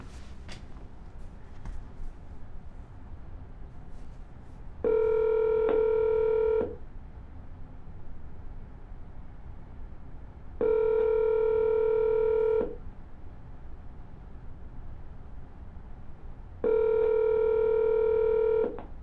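Touch-tone telephone redialing: three separate bursts of steady DTMF tones, each lasting about two seconds, spaced several seconds apart over a low background hiss.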